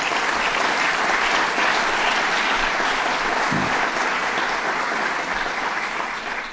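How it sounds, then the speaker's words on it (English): A large audience applauds steadily, a dense wash of clapping that holds at full strength throughout and tapers only slightly at the very end. "Let's give them a round of applause."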